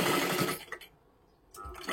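A sewing machine stitches along the edge of a piece of cloth in two loud bursts of rapid, steady needle motion, separated by a short quiet pause, with no talking.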